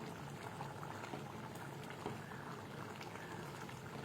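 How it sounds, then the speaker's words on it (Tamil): Steady bubbling simmer of curry in a pot on the stove, a dense continuous fizz and pop at moderate level with no voices. "நல்லா கொதிக்குது பாருங்கள்"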